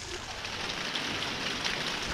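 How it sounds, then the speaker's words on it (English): Steady rain falling on a stormy day in the Deep South, a dense, even hiss of drops spattering on surfaces, continuous and fairly close with no voices. "Yep, rain's done set in."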